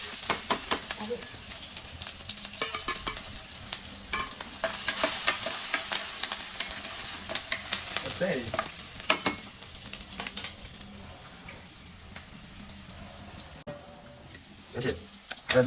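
Kanda poha stirs and fries in a pan, giving a steady sizzle broken by frequent scraping and clinking of the spoon against the metal, with people talking over it.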